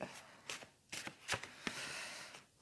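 Playing cards are shuffled by hand in several quick riffling bursts, soft and close in a quiet room, with no talking.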